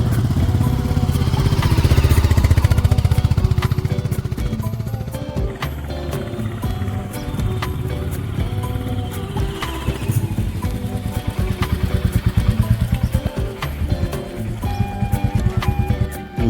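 A motorbike climbs a steep hill track toward the Jalandhar Nath cave, its engine droning steadily and loudly throughout with a throbbing low rumble and no talk.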